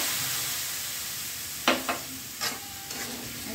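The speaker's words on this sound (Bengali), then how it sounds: "সেদ্ধ হওয়ার জন্য একেবারে একটু জল দিয়ে দেব" Water goes into a pan of fish curry with vegetables and spices, a soft frying sizzle broken by a few sharp splashes and hisses midway, with quieter bubbling afterward; no one speaks.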